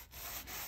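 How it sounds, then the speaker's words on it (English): Small sanding block rubbed over a paper craft box envelope for a junk journal, a steady close scratchy rub lasting under a second with no talk. "I usually just go over this with this little sanding block"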